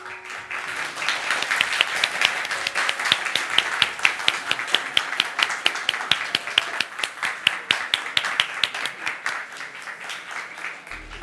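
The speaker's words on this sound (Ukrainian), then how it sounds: "Так гарно тобі всі аплодували, Віка" Applause from an audience after a barista's performance at a coffee championship qualifying round, steady dense clapping with sharp individual claps throughout, continuous and moderately loud, without talk.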